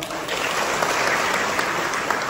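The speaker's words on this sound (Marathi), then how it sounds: "यासाठी जोरात टाळ्या वाजवा" An audience at a meeting of fishing-village residents breaks into applause, a dense close burst of clapping that holds steady throughout without voices.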